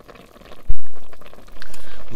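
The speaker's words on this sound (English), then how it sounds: "It says boil, but you actually purify water." Bubbling of water being boiled to purify it at a cooking station in the survival video game Zompiercer, a steady liquid burble that swells louder partway through, with no talking.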